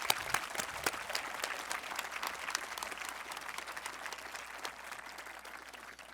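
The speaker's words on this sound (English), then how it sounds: "let's give a round of applause to those folks" A large crowd applauds at a 2022 commencement ceremony, a steady wash of many hands clapping at moderate distance that fades slightly toward the end.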